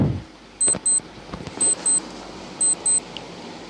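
An on-screen quiz countdown timer beeps in three evenly spaced pairs of short, high electronic tones over a quiet background, with no talking.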